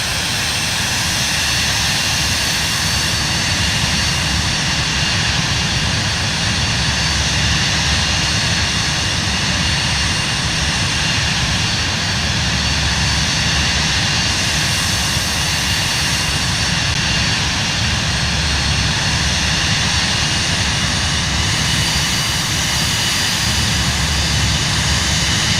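The Cirrus Vision Jet G2's single jet engine in Microsoft Flight Simulator whines and roars loudly and steadily throughout, a continuous dense cabin drone with slight swells and no voices.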